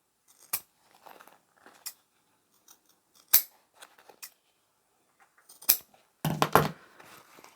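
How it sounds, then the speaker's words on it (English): Scissors snip through leftover tape and trim the corners of a sewn vinyl pouch: a few crisp, close cuts spaced apart in a quiet room, ending in a quick cluster of snips. "Let's chop off the rest of the tape. Trim your corners."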